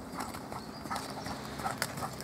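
Horse hooves clip-clop in a steady rhythm during a riding lesson, moderately close over continuous arena background noise.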